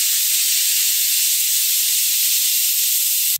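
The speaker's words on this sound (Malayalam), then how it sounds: "ഏകദേശം 1-2 വിസില് വരുന്നത് വരെ നമുക്ക് വേവിച്ചെടുക്കാം" A pressure cooker loudly venting steam while cooking biryani with raw rice. It gives a steady, close, continuous hiss for about three seconds that cuts off abruptly.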